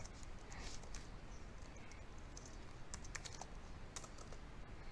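Rapid clicking of keys as code is typed on a computer keyboard, a steady close-up patter of keystrokes with no talking.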